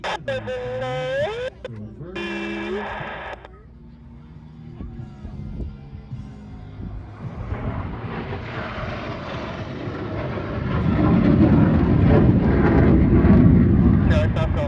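A U.S. Air Force Thunderbirds solo jet flies at an evening airshow, a loud roar swelling and sustaining for several seconds after an announcer speaks over crowd noise.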